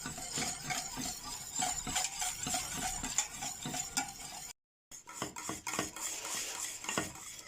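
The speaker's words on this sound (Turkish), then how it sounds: "Ocağa aldığımız tenceremizi bu şekilde karıştırarak kaynatmaya devam ediyoruz." A spoon scrapes and clinks against a metal pot in quick, repeated strokes while stirring su muhallebisi, a milk pudding, as it boils; close and fairly loud, with a brief silent gap midway.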